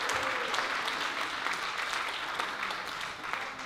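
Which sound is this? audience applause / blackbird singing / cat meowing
audience applause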